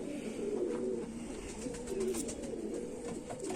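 Kamagar pigeons coo in soft, repeated rolling calls amid a steady background murmur of other birds, quiet and moderately close, with no talking.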